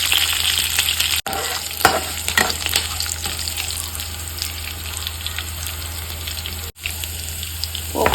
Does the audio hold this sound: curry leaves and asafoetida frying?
yes